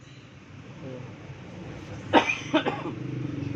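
Two short coughs break through a quiet background hum, close by, with a few softer noises trailing after.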